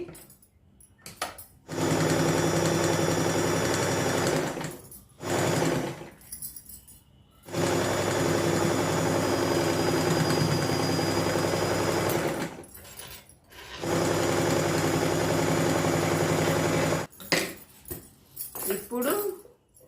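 A sewing machine stitches blouse lining cloth in three long, steady runs of close, even whirring, separated by pauses filled with handling noises and someone talking.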